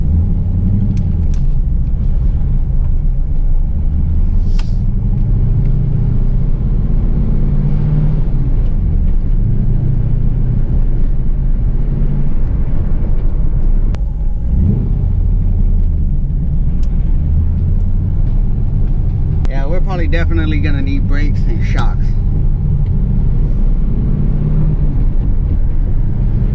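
A 2000 Camaro SS (SLP) rumbles along on a drive, its engine droning low and steady throughout with small rises and falls, while someone talks briefly over it partway through.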